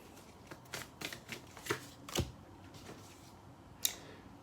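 Tarot cards are shuffled and drawn close by, with soft papery riffles and several sharp snaps and flicks scattered irregularly over a few seconds in a quiet room.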